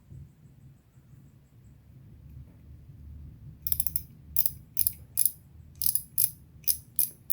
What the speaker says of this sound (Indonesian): Suara clicker nyaring.